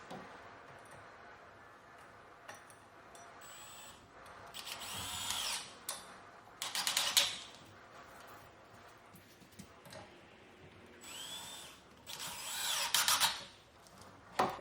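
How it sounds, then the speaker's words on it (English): A power drill drives screws into a cabinet hardware pull from the back side, in several short whirring bursts separated by pauses, with small clicks and handling noises in between and no talk. "all we're gonna do is just drill it in from the back side"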